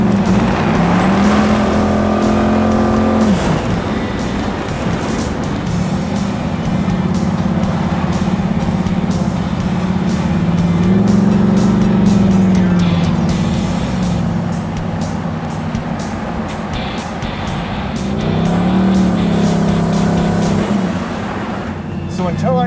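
Twin-turbo 1000 HP Oldsmobile Toronado engine, loud and close, rising and falling through several throttle blips and sustained revs over a continuous rumbling idle, with a voice talking over it at times.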